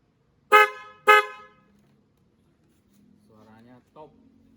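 Two quick, loud toots from a secondhand Peugeot 3008 horn installed on a Peugeot 307 ring out in rapid succession, then fade into quiet where a person starts talking.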